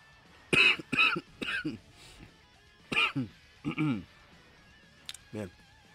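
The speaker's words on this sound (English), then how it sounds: "I got a cough." A man who is still a little sick coughs and clears his throat several times in short rough bursts, close and fairly loud, in separate clusters spread across a few seconds.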